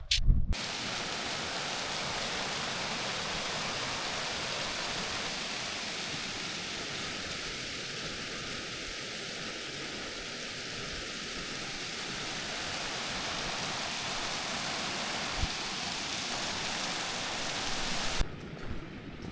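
Waterfall on the Chasm Lake hike, a steady broad rushing roar of falling water, close and constant for the whole stretch with no voices and only a few faint knocks near the end.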